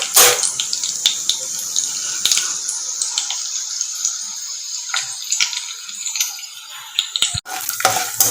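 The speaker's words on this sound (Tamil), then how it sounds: "கொஞ்சம் ஒரு கைப்பிடி அளவு கடலைப்பருப்பு போட்டு நல்லா ஆயிலில் பொரியட்டுங்க" A handful of chana dal frying in hot oil in a pan while cooking coconut rice gives a steady, close crackling sizzle with a constant hiss and occasional sharper pops throughout.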